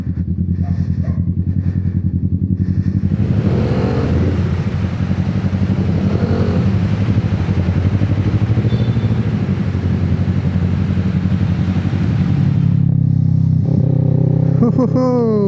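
A Kawasaki Z650 motorcycle engine idles and revs continuously, loud and close, with a rising rev near the end.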